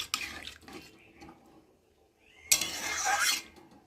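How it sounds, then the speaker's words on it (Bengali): Water is poured into a pan of aloo posto curry, with a short splash at the start, a quiet pause, then a louder rushing pour of water lasting about a second, alongside light clinks of kitchenware. "দেখো আমি এখন জল দিয়ে দিলাম"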